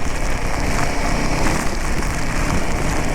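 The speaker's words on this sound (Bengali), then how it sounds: "এত হাওয়ার মধ্যে হাওয়া আর মুসলধারায় বৃষ্টি" Heavy monsoon downpour driven by strong wind during a group bike tour from Kolkata to Baranti: a dense, steady roar of rain and gusting air that runs unbroken and loud throughout, with no talking.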